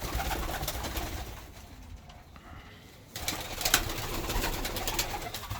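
Tumbler pigeons cooing and calling outdoors with occasional wing flaps, a steady murmur of birds throughout and a brief quieter lull partway.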